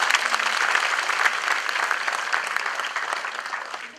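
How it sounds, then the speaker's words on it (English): An audience at a one-day workshop on youth and politics in India claps together, steady dense applause that holds for several seconds, moderately loud and filling the room. "Shall we all clap our hands?"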